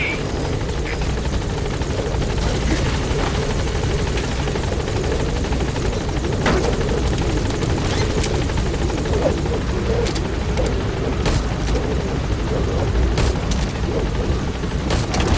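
The Pequod helicopter from Metal Gear Solid V roars steadily and loudly through the whole stretch, its rotor din continuous, with a few sharp bangs near the end.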